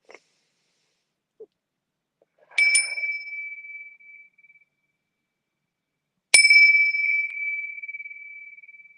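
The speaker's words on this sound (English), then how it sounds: "I do like to tune in too with the bells" Two separate bright metallic bell strikes, each ringing out and slowly decaying in a quiet room, with a few faint small sounds before the first.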